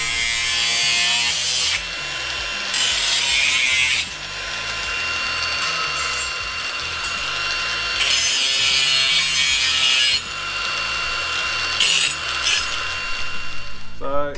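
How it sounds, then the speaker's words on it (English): A power cutting tool trims excess sheet metal from the lower left rear quarter panel of a TA22 Toyota Celica during rust repair, loud harsh grinding in several long bursts with short pauses between them. "So I'm going to trim all this excess off, make this cut"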